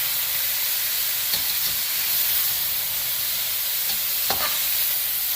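Chicken stir fry sizzles in a hot pan with a steady, bright hiss, broken by a few soft clicks and scrapes of stirring.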